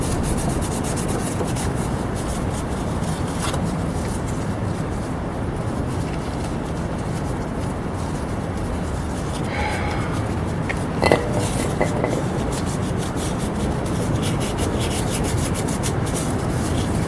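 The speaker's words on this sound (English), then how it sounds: "So I think the 2000 grit's pretty good for just polishing off." Steady, close rubbing of 2000 grit sandpaper polishing metal, a continuous dry scratchy hiss with one brief knock partway through.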